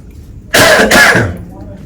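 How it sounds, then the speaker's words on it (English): A single harsh cough, loud and close, made of two rough bursts in quick succession, with faint room noise before and after. "I'll edit that cough out."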